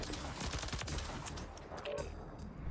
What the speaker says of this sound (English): your gun's going to shoot like this